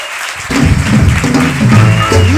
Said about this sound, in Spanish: vamos a recibirles con un aplauso